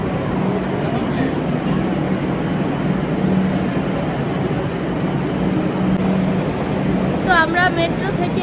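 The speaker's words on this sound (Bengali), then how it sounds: "তো আমাদের মেট্রো চলে এসেছে।" A metro train runs with a loud, steady rumble throughout, heard from inside the ride, with a few thin squeals and a brief high screech near the end.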